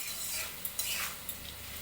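Potatoes fry in a pan while being stirred, browning for a paneer curry; a steady broadband sizzle runs throughout with a few scraping clinks of the utensil against the pan, close and moderately loud.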